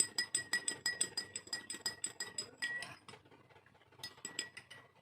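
A spoon stirs cooking oil mixed with eucalyptus oil in a glass, making rapid, quiet clinks against the sides that pause briefly and then resume.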